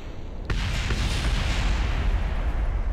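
A rocket blows up in the video game Kerbal Space Program, a sudden deep boom that swells into a loud, sustained roaring rumble.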